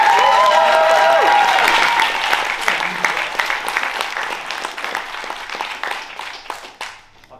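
An improv show audience applauds two teams as they come on stage: dense, loud clapping that starts at full strength, then thins into scattered claps and fades out over several seconds.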